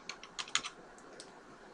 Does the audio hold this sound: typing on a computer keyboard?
yes